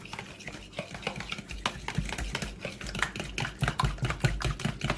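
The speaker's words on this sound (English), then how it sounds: "I'm going to stir this and combine it." Spoon stirring a sour cream mixture in a bowl for an omelette, a steady run of close scraping and clinking taps against the bowl with no talking.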